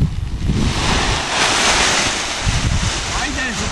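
Strong wind blowing at a paragliding launch site on a mountain peak, buffeting the microphone in a continuous loud roar with gusty swells.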